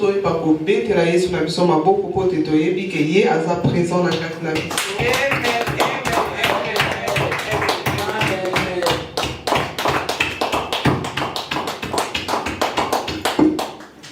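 A church congregation at worship breaks into acclamation and clapping, rhythmic hand claps growing loud and dense after singing and voices at the start, with voices continuing over the clapping.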